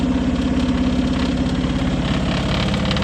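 Tata truck loaded with granite climbing a slope: a loud, continuous, throbbing diesel engine drone that holds steady and close throughout.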